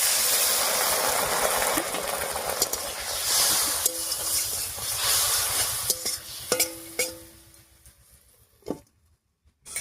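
Tomato cooks with salt, chili powder, turmeric and a little water in a covered pan, giving a steady steam hiss and sizzle that fades toward the end, with a few light clinks near the close.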